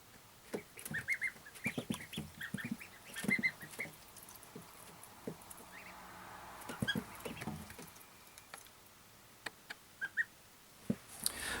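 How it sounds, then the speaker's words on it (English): Three-week-old ducklings peep and chirp indoors in an outgrown brooder box, a scatter of short, high, fairly faint calls coming in bursts over quiet background rustling. "Our ducklings have outgrown the brooder box that they're in"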